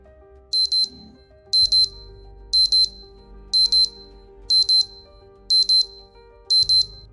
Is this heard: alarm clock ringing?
yes